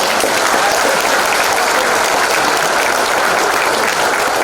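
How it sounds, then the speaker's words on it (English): A conference audience breaks into loud, dense applause, many hands clapping continuously at full strength for the whole stretch with no pause. "Can we give a big applause to Dato'?"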